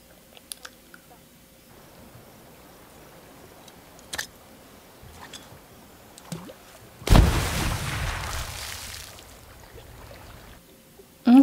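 In a TV show scene, a grenade thrown into water as fishing bait goes off as one sudden muffled blast that fades over a few seconds, after quiet scattered clicks and small sounds.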